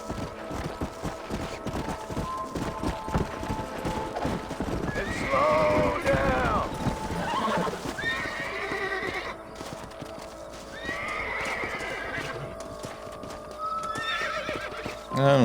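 Horses in the video game Red Dead Redemption gallop with rapid clip-clop hoofbeats and let out several loud neighs and whinnies, close and vivid, over game music and bustle.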